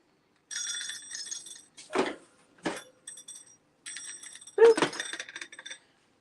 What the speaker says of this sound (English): these are metal wheels, and they make that noise when you pull it